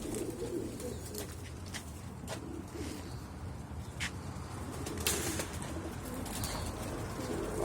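Pigeons coo softly and steadily close by near their chicks, with occasional wing flutters and rustling, no talk.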